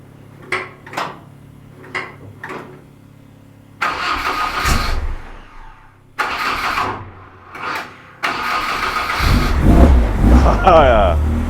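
A 2.0 litre hot rod engine cranks in a reverberant workshop, several short starter bursts and stumbling catches before it fires into a loud, echoing idle, with people talking over it.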